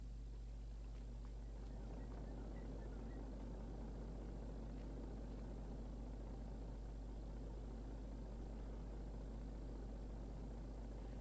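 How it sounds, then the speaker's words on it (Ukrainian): Combine harvester engine running in the distance, a faint, steady low droning hum that continues unchanged throughout with no voices. "Навіть не чує того трактора. Ой, того уборочного комбайну."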